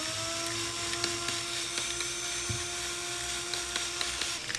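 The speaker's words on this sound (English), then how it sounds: "showing a 3D printed magnetic wobbling gearbox. It is a 11:1 single stage reduction gearbox." A 3D printed magnetic wobbling gearbox with an 11:1 single stage reduction runs steadily, giving a continuous high whine with a low hum beneath and a few faint clicks throughout.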